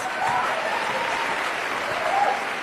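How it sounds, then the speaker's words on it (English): A seated audience at a talk applauds steadily, a dense, even wash of many hands clapping at moderate loudness that holds without a break. "Another round of applause."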